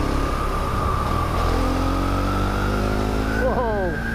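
Husqvarna Vitpilen 701 motorcycle ridden through twisty back roads, its engine droning loud and steady with rising and falling revs as it shifts and accelerates, heavy wind rush over the rider's microphone.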